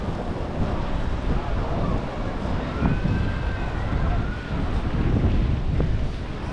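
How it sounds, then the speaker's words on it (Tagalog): Wind blows outdoors and buffets the microphone with a constant rushing roar that swells and eases, accompanied by faint distant whistling tones. "Hintayin natin yung humangin."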